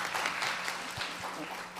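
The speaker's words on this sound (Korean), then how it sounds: "좀 박수 좀 부탁드리겠습니다." Applause from a seated audience at an economics policy seminar in Korea, fairly even, moderately loud clapping that runs for the whole short stretch.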